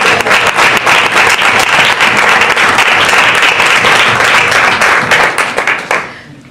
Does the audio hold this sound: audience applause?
yes